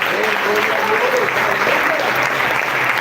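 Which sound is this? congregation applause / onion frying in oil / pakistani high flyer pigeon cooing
congregation applause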